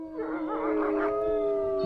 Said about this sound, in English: Every night at 9 o'clock, at 12, and at 3, all the dogs howled together.